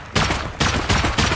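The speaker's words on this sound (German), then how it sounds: "schieß mal auf den Rahmen" Three sharp bursts of gunfire in Rust aimed at a door frame, close and loud, separated by short pauses.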